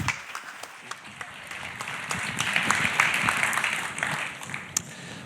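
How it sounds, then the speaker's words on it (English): Conference audience applause greeting a speaker, starting with scattered claps that swell into a full, steady round, peaking midway and then easing off slightly. "Let's give him a big round of applause."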